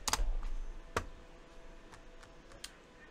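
A password is typed on a computer keyboard in a quiet room: a couple of sharp key clicks open the run, followed by a sparse, irregular patter of lighter taps with no one speaking.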